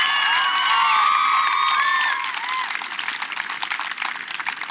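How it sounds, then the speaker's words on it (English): Crowd applause and cheering at a Little League parade in Mountainside, New Jersey, with high whoops and children's shouts over clapping that thins into scattered claps toward the end. "everybody should give him a big round of applause so he hears it wherever he is"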